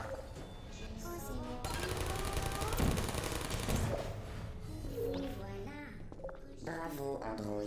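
Automated turret gunfire in Portal rattles in a dense, sustained burst for a couple of seconds, with a voice talking before and after it.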